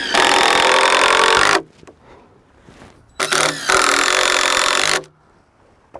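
Power driver running 2.5-inch screws into a wooden deck rim joist: two loud, sustained whirring bursts of about a second and a half each, separated by a short quiet pause with faint handling noise.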